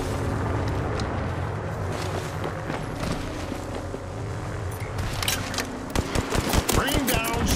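Video game firefight with dense, continuous gunfire and rumbling blasts throughout, growing into sharper, louder bursts near the end, with a voice speaking over the action.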